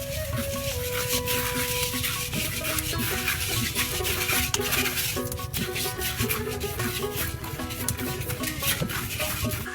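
Puffed rice is roasted by hand in a clay pot in rural Bengal: a continuous dry rasping and rubbing of grains against the pot, close and steady throughout, with a faint hum and scattered crackles underneath.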